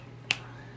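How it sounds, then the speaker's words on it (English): A single sharp hand clap for audio sync, made alone in a quiet garage near an Oldsmobile 442 project car, with a low steady hum underneath. "Clap."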